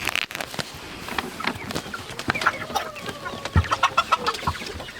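Chickens cluck and chatter close by in short, irregular bursts, with a faint rustling background and no talking.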